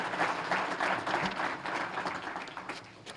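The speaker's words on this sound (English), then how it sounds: "I do want a round of applause for everything Tufts has done to help us with" An audience at an education foundation business forum gives a round of applause, a sustained mid-level patter of many hands that gradually thins toward the end, heard without speech.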